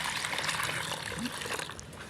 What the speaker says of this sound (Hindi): तो अभी जो हमने इनको पानी डाल दिया है।